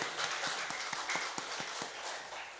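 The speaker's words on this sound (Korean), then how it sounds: "우리 하나님께 영광 박수 올려드리겠습니다." A church congregation at a Sunday worship service claps in praise to God, a quiet, fairly even run of handclaps over a soft room wash.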